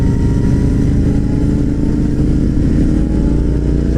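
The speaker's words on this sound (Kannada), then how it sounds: "Super bike ಓಡಿಸ್ತಾನೆ." A super naked motorcycle engine runs steadily and close by, a constant loud mid-range drone with no break, alone without any voices.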